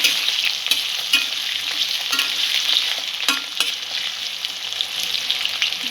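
Potatoes frying in a pan for an okra and potato curry: a loud, continuous sizzle with occasional sharp stirring scrapes and taps, close up and without any voices.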